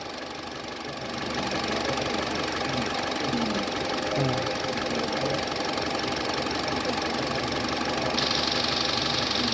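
A Mitsubishi truck engine runs with a steady mechanical clatter, its pitch rising slightly as it is revved with the air-conditioning compressor not engaged, heard close up without talk.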